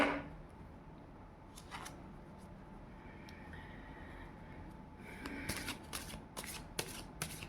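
Tarot and oracle cards are shuffled by hand, close and soft, in a quiet room. Brisk riffles and taps cluster near the end, and no voice is heard.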